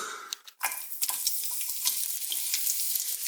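Green peppers sizzle steadily in a pan on a home stove, a constant close frying hiss with small crackles and pops, no talking over it.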